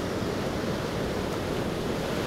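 A big ocean wave rushes onto the shore under a black-and-white sky, a loud, dense, continuous roar of churning surf and washing water filling the whole moment.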